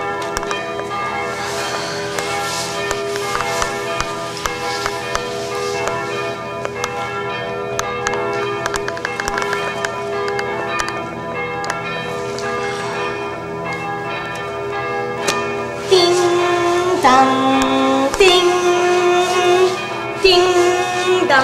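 A church bell rings in sustained, resonant tones that overlap and hang in the air, steady through most of the stretch and swelling louder toward the end, with no speech.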